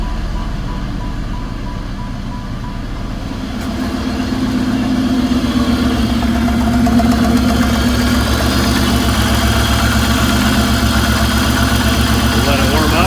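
Steady idle of a Pontiac Fiero with a swapped 3800 V6 engine, just after a misfire repair; an even mid-pitched engine hum with a rumbling low end runs throughout, and a voice talks over it.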